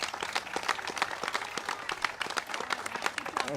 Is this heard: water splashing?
no